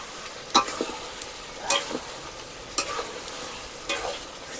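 Wild boar meat is stir-fried in a pan, with soft continuous sizzling and repeated scraping stirs of a utensil against the pan at an uneven rhythm, close and moderately loud.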